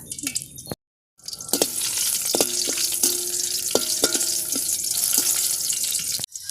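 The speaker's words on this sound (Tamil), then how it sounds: "சிறிதளவு கருவேப்பிலை ரெண்டு பச்சை மிளகாய் ரெண்டு வரமிளகாய் சேர்த்துக்கலாங்க" Curry leaves with green and red chillies hit hot oil for a country chicken gravy: a loud crackling sizzle with sputtering pops and clicks after a brief silent gap, then continuous frying with stirring.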